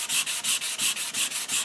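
Rhythmic sandpaper strokes across a wooden HW30 air rifle stock, roughly three even back-and-forth rubs per second, close up and continuous with no talking.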